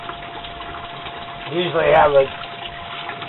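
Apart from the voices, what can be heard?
water running while filling tubs to clean glass bottles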